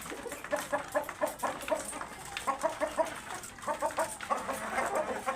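Hens at an urban farm, a large egg-laying breed, cluck in short repeated bursts that rise and fall, fairly close, with no talking.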